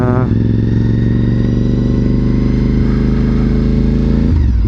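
Loud motorcycle engine idling and revving up close, a steady throaty drone that rises sharply at the start and drops at the end.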